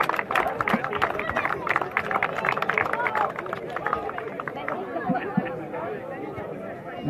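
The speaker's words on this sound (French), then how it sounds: "On peut l'applaudir, oui, c'est vrai." Audience at a football club's 80th anniversary ceremony clapping and murmuring, a crowd applause mixed with chatter that fades toward the end.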